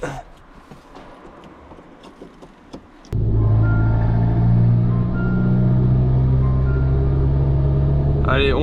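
Tuned stage 3 Abarth 595 engine catches after quiet shuffling, then idles loudly and steadily while warming up, a deep throbbing rumble close by; a brief voice sounds before it starts.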